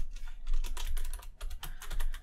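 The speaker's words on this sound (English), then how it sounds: "I just type a bunch of stuff in here" Rapid, uneven keystrokes on a computer keyboard, close and fairly loud, clattering in bursts with brief pauses, with no speech over them.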